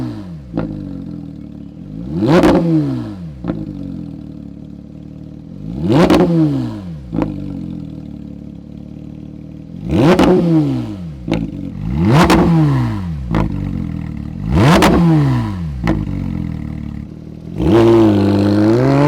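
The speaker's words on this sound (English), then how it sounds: "Let us know what you think about the exhaust sound in the comments" A Porsche 992 GT3 RS with a new exhaust and Eventuri intake revs repeatedly, five sharp climbs to a high scream and back down in a steady pattern, then a final rising blip, loud and close.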